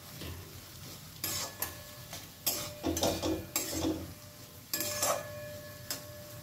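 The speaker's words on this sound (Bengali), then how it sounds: "দেব সামান্য একটু চাট মশলা, এবারেও ভালো করে একটু মিশিয়ে নেব।" Chaat masala being stirred into a spiced potato filling in a pan, giving several short scraping, clattering bursts in an irregular rhythm over a low background hiss, close and fairly quiet.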